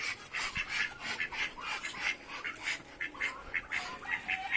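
Ducks quacking in a rapid, steady series of calls, fairly faint and somewhat distant, with no voices.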